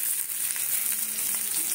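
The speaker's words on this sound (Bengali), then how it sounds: "দেখো আলুটাকে সুন্দর করে ভেজে নিয়েছি, এবারে তুলে নেব।" Potatoes frying in a pan for a yogurt potato curry, a steady close sizzle with soft crackling throughout, alone without talk.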